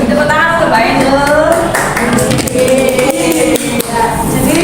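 Classroom applause for a student in an Indonesian junior high teaching practice lesson, steady dense clapping sustained throughout, with voices and chatter mixed in underneath.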